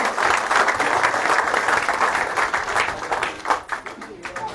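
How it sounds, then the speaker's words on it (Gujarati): A crowd at a village cricket tournament final in Tadkeshwar applauds the organisers, with dense, sustained clapping that holds steady and then thins slightly near the end. "એમને પણ તાળીઓથી એમનો શુક્રગુજાર અદા કરીએ"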